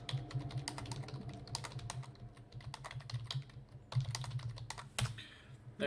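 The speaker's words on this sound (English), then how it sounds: "Whenever I hear DM typing, it scares me." Rapid, uneven typing on a computer keyboard at a tabletop game session, close and fairly quiet, with clustered key clicks and short pauses.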